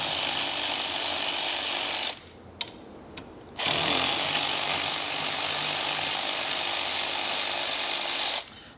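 Power tool whirring loudly and steadily as it removes 10mm bolts from a CFMoto Z950 Sport motorcycle, with a short break of near silence and a brief blip before the tool runs again at full speed.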